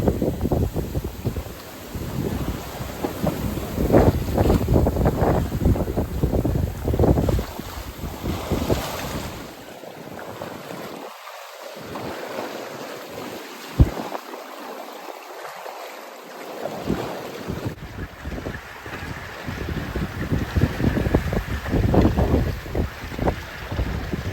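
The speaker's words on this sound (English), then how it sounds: "The waves suddenly picked up. Let's see if I can capture them." Waves and gusty wind around a small sailboat on a solo coastal passage off Norway, with a steady rushing roar of wind buffeting the microphone and water washing against the hull, dipping briefly midway before rising again.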